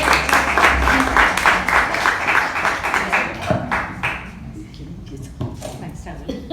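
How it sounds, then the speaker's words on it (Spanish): Audience applause at a memorial panel discussion in Xalapa, dense and steady clapping for several seconds, then thinning out into scattered claps toward the end. "les pido un fuerte aplauso"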